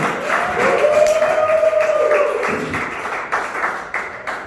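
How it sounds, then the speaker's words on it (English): At an open mic night in a comedy club, an audience breaks into scattered applause and claps for a comedian, close and moderately loud, with a cheer or whoop riding over the clapping before it thins out. "let's start the clapping for Paul Guzman"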